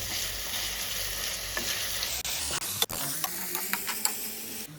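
Garlic and ginger paste sizzling in a pan of oil for a meat curry: a loud, continuous frying hiss with stirring clatter and a few sharp utensil knocks partway through.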